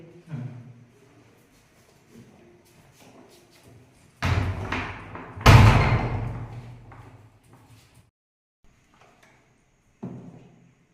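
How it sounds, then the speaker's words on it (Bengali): A heavy thud as a door shuts, with a softer knock just before and quiet movement around it; a voice is briefly heard at the start. "এই ঢুকে দরজাটা দিলে।"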